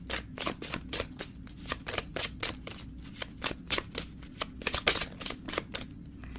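Tarot cards shuffled and drawn at close range, a rapid run of crisp papery riffles and slaps in an uneven rhythm, with no voice over them.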